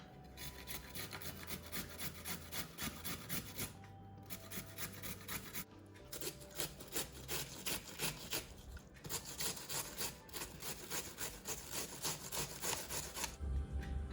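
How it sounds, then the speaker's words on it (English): Carrot and cabbage grated by hand for a vegetarian yogurt sandwich: continuous fast scraping strokes in a steady rhythm, close and fairly quiet, with a few short pauses. "I'm just going to grate the carrot and the cabbage"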